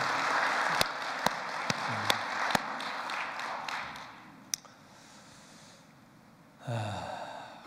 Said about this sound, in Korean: 우리 세계 문연아 회장님, 여러분 감사와 정말 고마우신 뜨거운 박수를 보내주시면 고맙겠습니다